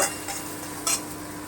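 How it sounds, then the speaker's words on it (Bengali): Chopped onion being stirred and fried until light brown, heard as a continuous close sizzle with two brief scraping strokes of a utensil across the pan. "হালকা বাদামি করে ভেজে নেব"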